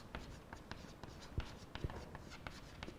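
Writing on a board during a physics class, a few short scratchy strokes, fairly faint, with a small thump or two and no talk over it.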